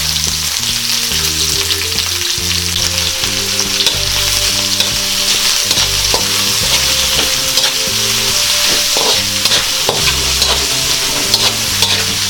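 Onion and ginger sautéing with garlic in a pan, a loud, steady sizzle with frequent stirring and scraping of the utensil against the pan, no talking.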